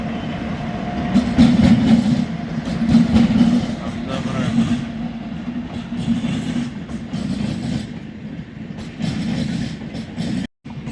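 A train rumbles past steadily with a low mechanical drone and clattering wheels, loud and close, continuing for several seconds.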